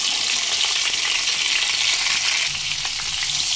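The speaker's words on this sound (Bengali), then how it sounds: "মিডিয়াম ফ্লেমে হালকা লালচে করে কাঁকরোল আলুগুলো ভেজে নেব।" Pieces of spiny gourd and potato, coated in salt and turmeric, fry in hot mustard oil over a medium flame, a loud, steady, close sizzle that continues without pause and with no talking.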